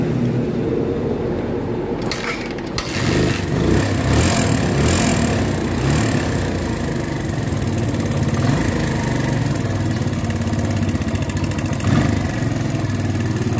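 Suzuki Thunder motorcycle with a drained battery is started, catching after a brief crank and then settling into a steady, loud single-cylinder idle that runs on without pause.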